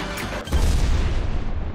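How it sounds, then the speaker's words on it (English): An explosion in the VRChat game lands as a loud, close, low boom that rumbles on for over a second after a brief lull. "Just fucking explosion."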